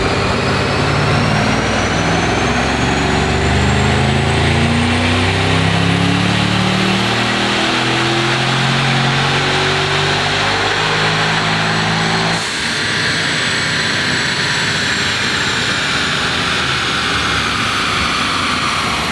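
1100-horsepower Mercedes engine roars on a dyno, loud and sustained, with a rising whine that climbs and then drops to a steady high drone.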